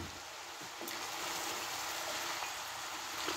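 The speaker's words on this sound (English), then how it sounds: "We need to give that a stir." Vegetables sizzling in a hot pan during a spicy chicken stir fry, a steady broadband hiss with faint scraping as they are stirred, close and continuous with no talking.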